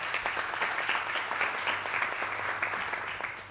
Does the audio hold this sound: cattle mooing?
no